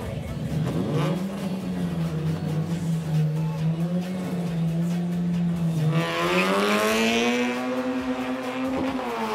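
A drag racing car at a Nitto King of Drag event in Chonburi screams away from the line, its engine pitch climbing, dropping at a gear change and climbing again, loud and close with crowd noise beneath.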